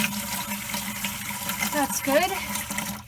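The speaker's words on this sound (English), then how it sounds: "So I'm going to fill the tub up about halfway with cold water." Cold water running into a tub, filling it about halfway, a steady rushing gush with a splashy rise in the middle, while a person talks briefly over it.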